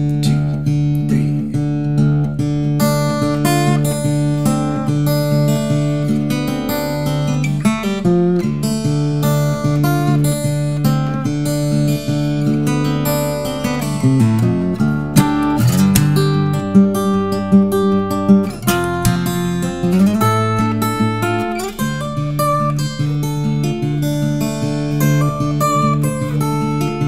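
A blues etude on guitar in DADGAD open tuning, played continuously for almost half a minute with dense strummed chords, ringing drones and quick single-note runs and bends, loud and close with no talking over it.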